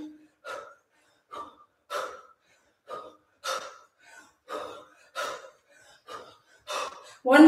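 Heavy, forceful breaths during a swing exercise workout, about a dozen sharp exhales and gasps spaced roughly half a second to a second apart, close and clear against silence.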